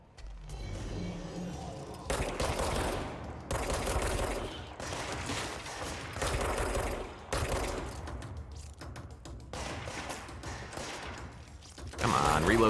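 Bursts of gunfire from a weird SCP gun in the video game Control, loud clustered volleys separated by brief pauses and mechanical clicks.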